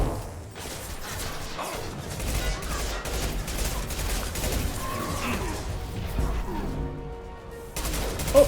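Mass Effect 2 combat gunfire, with repeated rapid shots and mechanical clatter running steadily under the action and a brief lull near the end.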